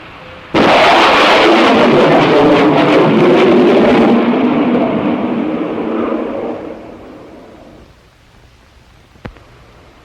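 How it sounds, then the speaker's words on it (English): Sonic boom from a supersonic airplane: a sudden loud broadband blast that hits at once, rumbles for several seconds, then fades into quiet with a faint click afterward. "It is the sonic boom you hear from a supersonic airplane."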